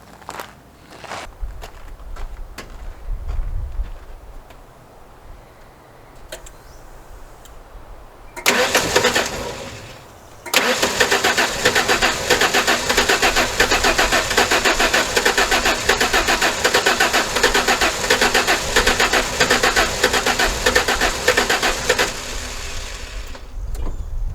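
A car engine that has sat with old fuel cranks with a loud, steady whirring churn that goes on for many seconds, after a few footsteps and clunks, without catching.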